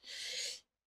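A single short sneeze, a sharp breathy burst lasting about half a second, then silence.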